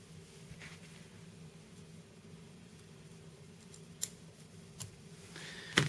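Scissors trim pearl Estaz on a minnow fly being tied, giving a few small, sharp snips spaced apart, faint against a quiet, steady background hum.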